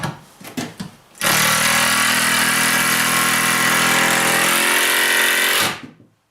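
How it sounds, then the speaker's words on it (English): A power driver with a shorter screwdriver bit runs a screw into an old heater mount, a loud steady whirring grind lasting several seconds after a few brief knocks, then spinning down and stopping. "I'm going to fire in a shorter screwdriver bit into this guy and see if I can get this guy in anymore."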